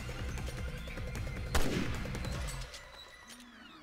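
Dense bursts of automatic gunfire from Resident Evil Revelations 2 in Commando (Raid) mode, continuous rapid shots with a sharp louder blast midway, then trailing off into quieter sporadic fire.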